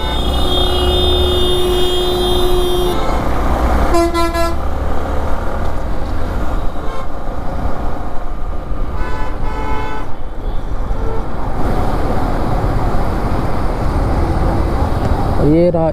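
Highway NH5 traffic near Chandigarh, heard from a Bajaj Platina 110 motorcycle, with loud horn toots in several bursts over steady engine and road rumble.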